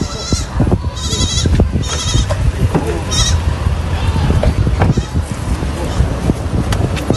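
A herd of goats bleats repeatedly at close range, several overlapping calls over scuffling and outdoor noise.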